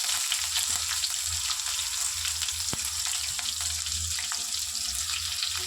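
Curry leaves and onion sizzle steadily in hot oil in a pan, a close, continuous frying hiss with faint stirring clinks and no talking.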